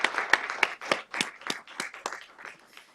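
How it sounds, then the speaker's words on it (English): A small audience claps for presenters at a breakout-session gathering: a short burst of fairly steady, distinct hand claps that fades toward the end, with no talking over it. "Let's give our presenters a warm felt round of applause."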